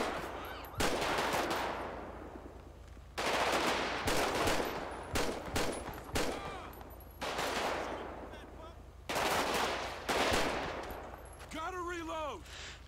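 Repeated bursts of video game gunfire aimed at car drivers, several loud sharp volleys separated by short gaps, with rapid shot trains in each burst and a brief tonal squeal near the end.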